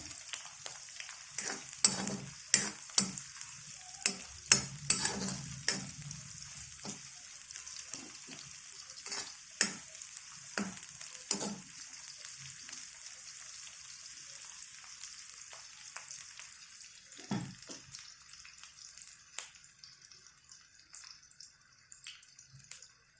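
Sliced onions fry in a pan for tomato rice, a steady sizzle with a sharp hiss and repeated clinks and scrapes of a spatula, busiest early and easing to a quieter sizzle.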